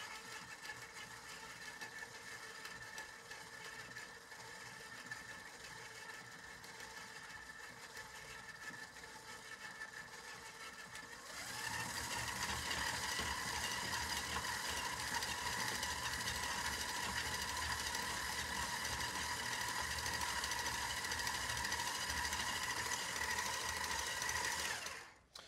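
Stand mixer beating fat and sugar together for creaming, a steady motor whine and whir that jumps louder and busier partway through as the speed is raised, with no talking.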